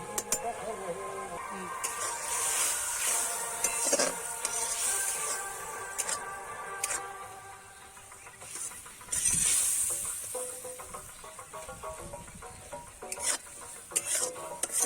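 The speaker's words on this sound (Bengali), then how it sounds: "এবার কড়াইয়ে ডালটা দিয়ে দিচ্ছি" Lentils and yardlong beans hit a hot wok in a village kitchen, giving a steady sizzle broken by scraping stirs and clinks of a utensil against the metal pan, with a person talking over it.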